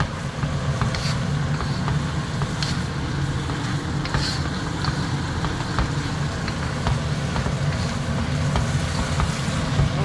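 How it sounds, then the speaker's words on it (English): Pork and sauces stirred together in a hot pan for pad krapow, giving a dense, continuous sizzle close up with repeated scraping and clacking of the utensil throughout. "Mix that all together."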